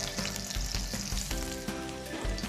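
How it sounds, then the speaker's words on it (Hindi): Cumin, chillies and garlic hit hot oil in a pan and sizzle loudly and steadily, close up, with light stirring scrapes and no talking, while cooking a masala Maggi dish. "तेल गर्म हो चुका है, तो अभी हम थोड़ा सा जीरा और ये मिर्चा, लहसुन आदि ये डाल देंगे"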